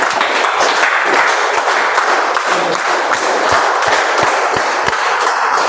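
An audience at a meeting applauds to welcome the general evaluator, with dense, sustained clapping that stays loud throughout and has no talk over it.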